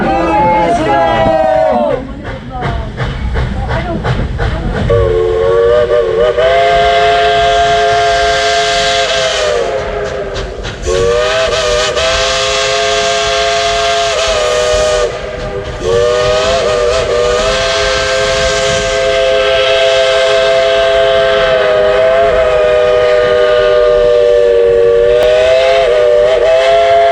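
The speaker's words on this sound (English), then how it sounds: "let's all say blow the whistle" A loud steam train whistle on a Dollywood train blows in long sustained chords, stopping and restarting several times, with crowd noise and voices at the start.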